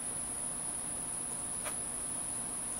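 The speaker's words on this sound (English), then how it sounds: "These mosquitoes are crazy out here." Mosquitoes and other insects buzzing outdoors at night, a steady, unbroken high drone that stays level throughout, with no voices.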